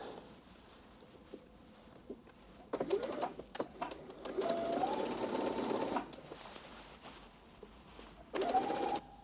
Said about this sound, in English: we're gonna sew the lining center front seam